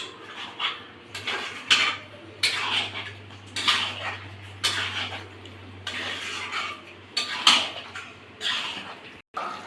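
Raw chicken is worked by hand into masala in a bowl, with soft wet squelches and light clinks against the bowl recurring in an irregular rhythm, close and quiet.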